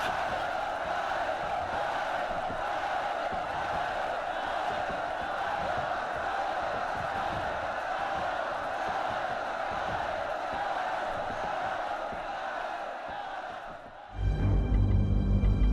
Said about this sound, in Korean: 계백의 뜻에 화답하는 군사들의 함성 소리가 황산벌을 진동시켰다.